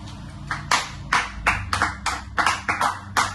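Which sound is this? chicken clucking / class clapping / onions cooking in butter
class clapping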